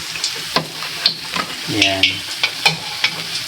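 Pork lechon kawali fries in hot oil with a steady sizzle while a utensil stirs and clinks at intervals, and a voice speaks briefly over the cooking.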